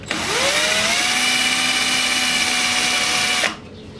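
A power drill bores into an aluminium floor panel for a single-seater car, spinning up to a loud steady whine for about three seconds and then stopping.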